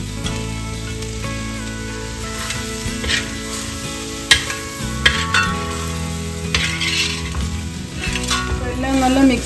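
Cooked beef being stirred and fried in an uruli, with a steady close sizzle and scraping stir strokes, a couple of sharp clinks of utensil on the vessel, and no talking.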